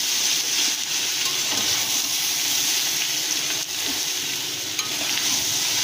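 Potatoes and spices stir-fried in a pan over low gas, a steady close sizzle and frying hiss with soft scraping stirs running throughout.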